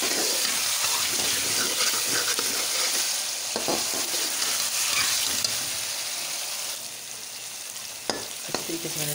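Radish and potato pieces stir-fried in a pan give a steady loud sizzle, with the scrape and clack of a spoon turning them and no voices.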